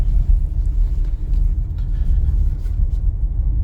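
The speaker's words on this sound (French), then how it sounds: "Première. Voilà, donc j'accélère" A car engine pulls in first gear from a standstill during a driving lesson, a deep, steady, fairly loud rumble that continues without pause and with no talking.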